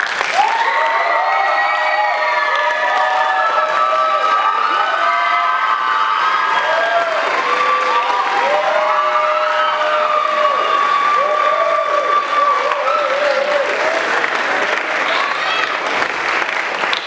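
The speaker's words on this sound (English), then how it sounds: "another round of applause for both candidates" Audience at a 2015 student body vice president debate breaks into sustained applause mixed with cheering voices and shouts, a steady, dense roar of clapping that holds loud for the whole stretch.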